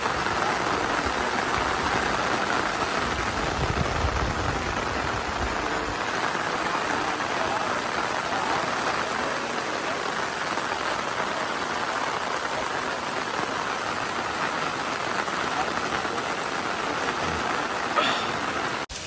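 Heavy rain pours down steadily and loudly in the Nilgiri hills, a dense continuous hiss lasting throughout, with a low rumble of passing traffic near the start.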